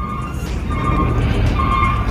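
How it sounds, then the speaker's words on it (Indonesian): A truck passes close by with a loud, continuous rumble and a faint engine whine, filling the whole stretch without any talking. "Waduh, truk lewat bentar ya."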